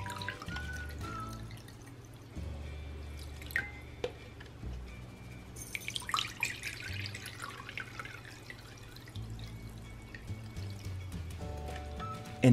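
Water is poured from a cup into bowls of Orbeez water beads, giving a close, steady trickle with dripping and splashing for about twelve seconds, with no talking.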